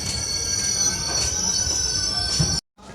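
The 12757 Kaghaznagar SF Express pulls into Peddapalli junction, its wheels squealing loudly and steadily against the rails for over two seconds before a sudden brief drop, then the rolling noise returns.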